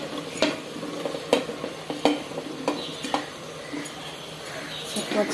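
Halved, washed mushrooms tipped into a yogurt masala frying in a pan for mushroom biryani, stirred with a spoon that scrapes and clinks at intervals over a constant sizzle.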